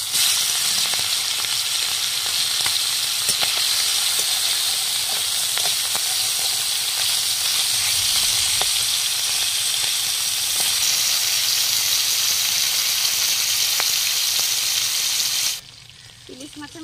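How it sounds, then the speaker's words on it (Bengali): A hilsa fish head fries in hot mustard oil with a loud, hissing sizzle close by. The sizzle holds steady for about fifteen seconds, then drops sharply to a quieter crackle. "এবার মাছের মাথাটা ভেজে নেব।"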